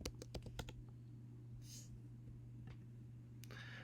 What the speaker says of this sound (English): we're going to type in our Google TinkerCad.